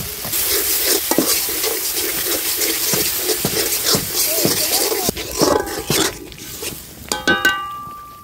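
Spices and a splash of water hit hot oil in a pan outdoors for a village fish and spinach curry, giving a steady close sizzle broken by scraping stirs, with brief clinks of utensils near the end.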